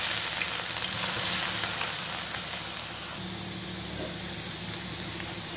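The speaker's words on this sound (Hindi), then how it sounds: "अब हम इसमें आलू के लच्छे डाल देंगे।" Shredded potato strands frying in hot oil in a pan on a gas stove, a steady close sizzling hiss that eases slightly after the first few seconds and stays even to the end.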